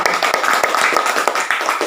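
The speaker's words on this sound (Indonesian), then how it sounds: "tepuk tangan untuk kita semua" A primary-school class claps together, a quick run of close, sharp hand claps packed into a brief burst of applause.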